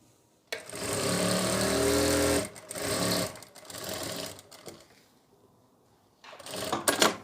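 A sewing machine runs in close, loud bursts while stitching a permanent pleated saree belt with elastic and buckram interfacing, pausing briefly between runs.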